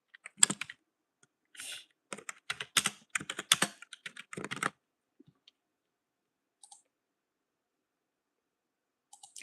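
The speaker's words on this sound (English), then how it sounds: "Stop typing." Someone types on a computer keyboard nearby in quick, uneven bursts of clicking keys. After a few seconds the typing stops and only a few scattered taps follow.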